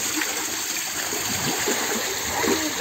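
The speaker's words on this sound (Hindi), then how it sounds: "ये पानी का पाइप है, जब हम मोटर को स्टार्ट करते हैं तब से पानी आता है" Water rushes steadily from a motor-fed pipe at a village in Kashmir, a continuous gushing splash with no pauses, fairly close and moderately loud.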